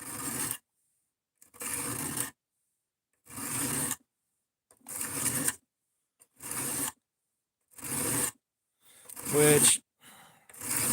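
A cheap Amazon knife blade drawn by hand across a sharpening stone in repeated strokes, about one every second or so, each a gritty scraping rasp separated by brief silences; a voice speaks briefly near the end.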